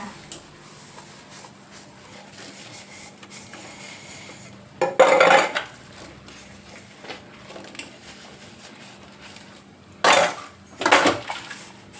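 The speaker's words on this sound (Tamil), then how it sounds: "காலையில் கழுவாததுனால நிறையா பாத்திரம் சேர்ந்துருச்சு" Two brief bursts of clattering pots, pans and dishes being washed break a quiet background, one near the middle and another pair toward the end.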